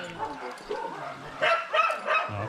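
Several dogs barking and yipping nearby, a cluster of short, sharp barks in quick succession, moderately loud with faint background noise.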